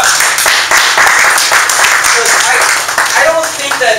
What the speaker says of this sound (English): Give David Light another big round of applause.